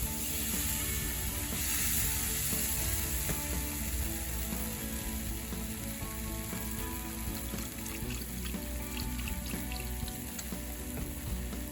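Gravy being whisked in a pan, a steady close sizzle of frying fat and flour with a continuous scraping, ratcheting whisk rhythm running throughout, with no talk.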